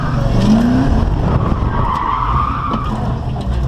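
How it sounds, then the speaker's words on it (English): Tires skid and squeal steadily as a car slides around under a driver's control, a loud, close, continuous screech over engine roar lasting several seconds with no voices. "Let a buddy drive it, so he slides around a little bit."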